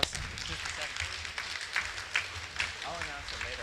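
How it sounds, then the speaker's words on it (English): An audience at a land and economy symposium gives a round of applause for a panel, with scattered clapping heard under a person's ongoing talk. "So another round of applause."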